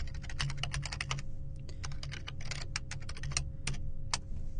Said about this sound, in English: I can type in my login,